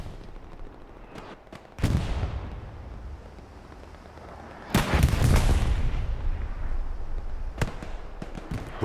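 Rocket explosions in a WWII-era multiplayer shooter battle for Hill 400, a loud blast about two seconds in and a bigger, longer boom near five seconds, with sharp distant shots scattered around them.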